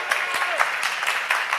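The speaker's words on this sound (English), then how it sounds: "let's give one more round of applause for Matt Alonzo." Audience at a filmmaking master class event gives a short burst of applause, brief and fairly close, with a voice partly overlapping it.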